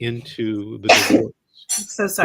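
A single sharp sneeze bursts out in the middle of a family law discussion, brief and close, with people talking just before and after it.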